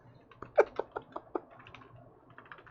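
Irregular, close keystrokes on a computer keyboard, a handful of distinct clicks with pauses between them, quiet and alone.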